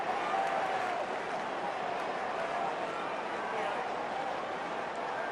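A football crowd cheers steadily at the Sydney v St Kilda Round 18 2009 match, a broad, continuous roar with a commentator talking over it.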